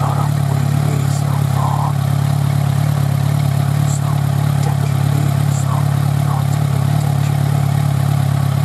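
A Kawasaki Z1000 motorcycle engine drones steadily and loudly while the bike is ridden, under constant wind rumble, with no talk.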